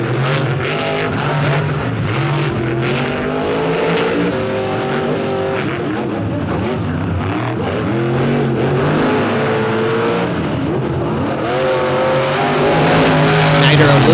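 Racing trucks roar around a track in Charlotte, their engines revving and surging steadily with occasional tire squeal. A commentator talks continuously over the loud, close engine noise.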